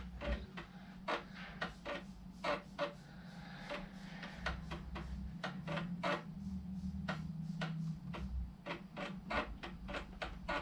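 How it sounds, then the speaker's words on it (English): An Amiga computer booting from an external IBM floppy drive, giving a rapid, regular series of mechanical clicks and ticks from the drive head, with a low steady whirr underneath, fairly close and otherwise alone. "It's booting off of the IBM drive here."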